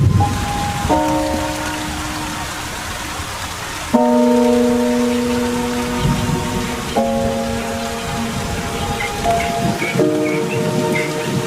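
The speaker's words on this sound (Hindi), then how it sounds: "पूरे पार्क में जोरदार बारिश होती है" Heavy rain pours steadily and loudly over Hluhluwe–iMfolozi Park in South Africa, a dense continuous hiss, while a few sustained bell-like tones ring out over it.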